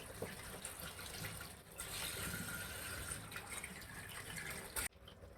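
Gourd leaves are rinsed one by one in water, giving a continuous close splashing and sloshing that stops abruptly near the end, with no talking.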